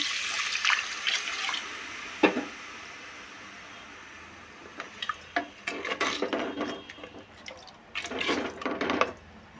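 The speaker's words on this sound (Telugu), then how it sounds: "ఇప్పుడు వాటర్ పోసుకుందామండి." Water splashes and pours in short bursts from a small vessel into a pot of goat meat curry, with a steady trickle and a few clinks of a vessel nearby.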